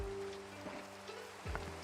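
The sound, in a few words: rain in a video game (Minecraft)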